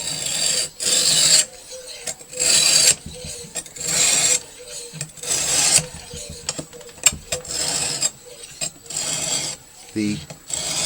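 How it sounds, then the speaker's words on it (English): A knife being sharpened on a soft stone with a simple jig: repeated rasping strokes in bursts of about a second, close and clear, with short pauses between passes. "We're going to be using this simple Amazon knife sharpening jig."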